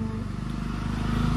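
Motorbike approaching and passing nearby, engine drone rising and steady throughout with a low throbbing rumble, no talking over it.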